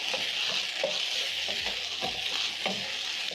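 Egg fried rice being stirred in a hot pan with dark soy sauce and oyster sauce: a continuous sizzle under repeated scraping strokes of the spatula, close and even, with no talking.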